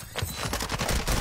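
Rapid automatic gunfire in an online shooter video game, a dense burst of loud, close shots fired continuously without pause.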